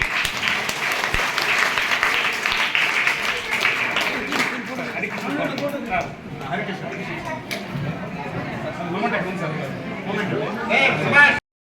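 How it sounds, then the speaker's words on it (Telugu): An audience at an Independence Day celebration in a Duvvuru village ZP high school applauds with sustained, dense clapping mixed with crowd chatter and a voice speaking. "ఒకసారి చప్పట్లు పట్టాలి"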